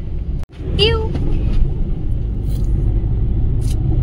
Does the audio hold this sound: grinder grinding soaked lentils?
no